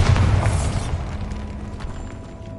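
A Bombarda blasting spell in Hogwarts Legacy goes off with a heavy boom, loud at the start, then a crumbling rumble and debris that fade out over a couple of seconds.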